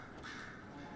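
A crow caws once in a video game setting, Dragon Age: Inquisition, a single drawn-out call heard fairly clearly against a soft ambient background with no talk.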